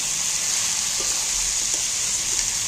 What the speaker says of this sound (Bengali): এবার এঁচোড়টাকে ভালো করে কষিয়ে নিতে